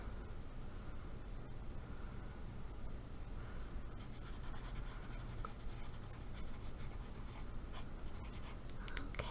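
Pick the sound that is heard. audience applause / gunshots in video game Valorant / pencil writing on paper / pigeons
pencil writing on paper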